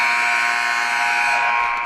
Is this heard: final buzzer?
yes